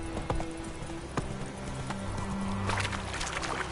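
Roach, a horse in The Witcher 3, gallops with steady rapid clip-clop hoofbeats close by, a brief whinny mixed in over a low music bed.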